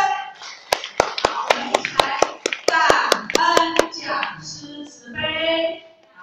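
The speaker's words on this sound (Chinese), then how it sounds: "一起掌声" A group claps in steady, sharp beats in gratitude during a class at a Buddhist hall, the distinct claps landing close together for several seconds while a voice talks over them.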